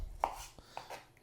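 A knife chopping an onion into half rings on a board, four or five quiet, close, separate cuts spaced unevenly over about a second.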